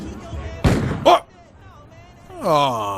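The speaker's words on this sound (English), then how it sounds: "Was that a gunshot?" A sharp gunshot bursts out in a cartoon episode, followed by a second smaller crack, and then voices speak in a quieter stretch.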